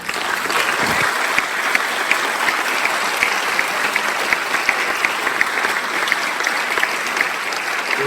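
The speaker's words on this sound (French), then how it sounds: "je vous demande d'accueillir avec des applaudissements nourris Madame Isabelle Autissier" Audience at a climate conference in Les Sables d'Olonne giving sustained applause to welcome the navigator Isabelle Autissier, loud, dense clapping with sharp individual claps standing out, continuous for about eight seconds.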